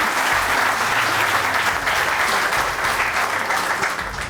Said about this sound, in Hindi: आप सबकी बहुत ज़्यादा तालियों में